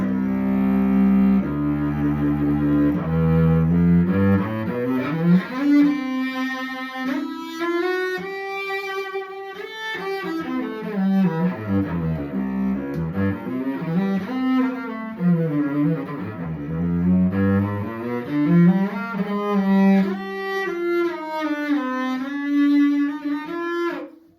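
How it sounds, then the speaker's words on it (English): A bowed four-string carbon fiber acoustic cello plays a slow, expressive melody with sliding pitches and vibrato, sounding alone and fairly close. "Here's the mezzo forte cello, 4-string cello."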